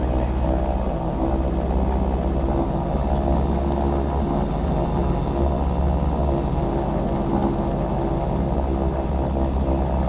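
A Rockwell propeller aircraft roars steadily at full power on its takeoff run from runway 32 right in the FSPassengers flight simulator game, a loud, continuous engine drone with no pause for the whole stretch.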